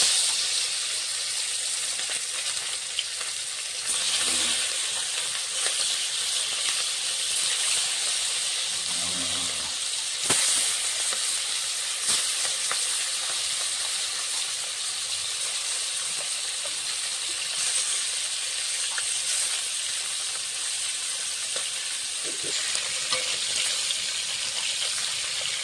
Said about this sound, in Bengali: কড়াইতে মাছ ভাজার জন্য সরষের তেল দিয়ে দিয়েছি।